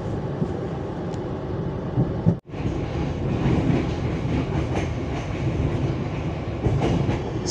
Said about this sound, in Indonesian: Kami informasikan saat ini kereta api Jayakarta telah tiba di stasiun Jatibarang.